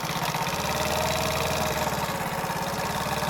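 A four-stroke scooter engine idling during carburetor adjustment, a steady, even putter running close and alone without any change in speed.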